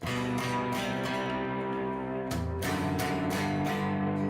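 A clean, undistorted electric guitar plays sustained chords with a bright, ringing tone, a change of chord partway through, no voices.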